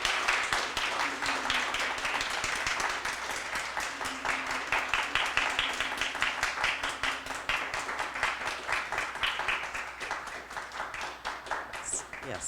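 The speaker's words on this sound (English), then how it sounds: "Let's have a round of applause for all three" A conference audience applauds a panel of three speakers, with steady dense clapping that stays even and close, then gradually thins toward the end.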